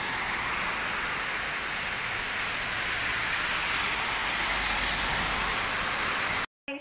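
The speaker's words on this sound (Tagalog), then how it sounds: "sobrang lakas ng ulan" Heavy rain pours down steadily and loudly in Hong Kong, a dense continuous hiss of drops on surfaces that cuts off abruptly near the end.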